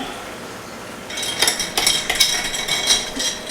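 A spoon stirring risotto in a pot scrapes and clinks against the metal in a quick, irregular series of close strokes, starting after a quiet moment and continuing to the end.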